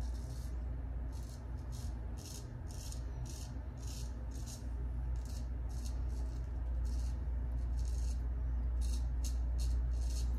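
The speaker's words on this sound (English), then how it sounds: "You can really hear that full hollow sing." Full hollow grind straight razor scraping through lathered stubble during a shave, a close, steady raspy singing in repeated short strokes over a constant low background hum.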